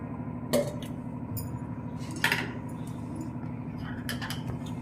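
A spoon stirs a spicy homemade snack mixture with two spoons of oil, giving a few sharp clinks against the bowl over a steady background hum, with no speech.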